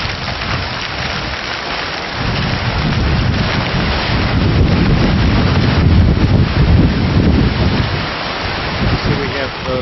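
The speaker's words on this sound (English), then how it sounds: "So we have our own little waterfall here." A small waterfall on a university campus, a dense, steady rush of falling water heard close up, loud and unbroken, with some wind buffeting on the microphone.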